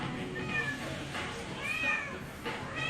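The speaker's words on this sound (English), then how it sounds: "Oh, this is a cat escaping." A kitten escaping from a makeshift enclosure meows several times in short, high-pitched calls, fairly close, with faint background noise and no speech.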